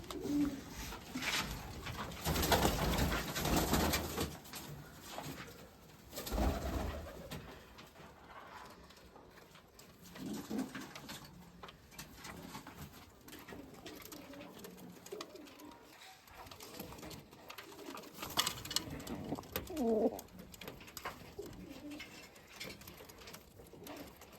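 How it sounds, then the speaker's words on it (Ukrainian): Pigeons coo softly and repeatedly nearby, with gentle rustling and low background noise throughout. "Голуби"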